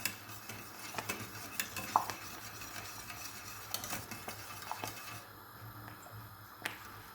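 A whisk stirs and beats melted margarine mixture for kuş lokumu in a pot, giving faint, irregular clicks and taps of metal against the pan over a quiet background, with no talking.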